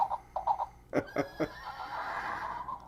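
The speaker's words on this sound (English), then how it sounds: "Now I got horses galloping in the background." Several short whinnies and snorting neighs repeat in bursts, followed by a sustained, breathy horse call; near and fairly loud, no talking.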